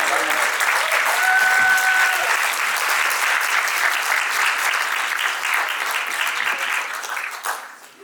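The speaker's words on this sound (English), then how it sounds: "So give another round of applause." An audience claps steadily and loudly for several seconds, a dense wash of applause that thins and fades out at the end.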